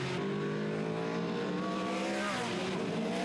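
TVR Challenge race cars brake into Lodge Corner at Oulton Park, their engines a loud, dense, layered roar with pitches sliding down as they slow.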